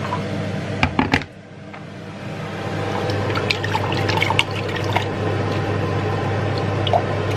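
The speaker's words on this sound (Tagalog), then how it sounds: "At lagyan natin ng konting tubig itong" Water trickles from a coconut milk can into a pot of chicken curry, a steady soft pour over a constant low kitchen hum, with a few sharp knocks near the start.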